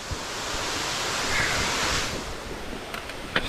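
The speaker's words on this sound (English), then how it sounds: "It's a big ass waterfall." Big waterfall on a mountain trail near Mt. Lafayette, a steady broadband roar of falling water that swells slightly midway and then eases, with a few faint clicks near the end and no talking.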